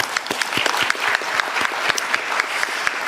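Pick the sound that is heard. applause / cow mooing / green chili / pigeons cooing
applause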